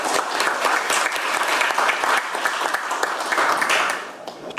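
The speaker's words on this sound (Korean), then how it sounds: "소개해 드릴 때마다 큰 박수 부탁드립니다" A seated audience at a policy forum applauds as a guest is introduced, a dense, steady burst of clapping from many hands that fades briefly near the end.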